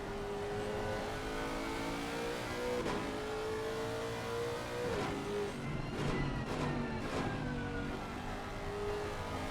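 GT3 race car engine in Assetto Corsa Competizione at Paul Ricard, on a wet track, holds a steady loud howl with rising and falling pitch as the driver eases the throttle, joined by brief tyre and gear-change sounds.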